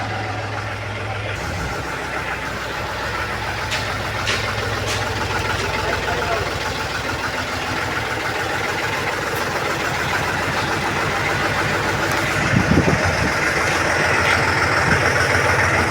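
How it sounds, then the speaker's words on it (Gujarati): A Mahindra tractor engine idles nearby with a low, even, throbbing rumble that holds steady throughout, rising slightly near the end. "સીટ ઉપર કોઈ નથી, જો આયલું જાય છે ટ્રેક્ટર."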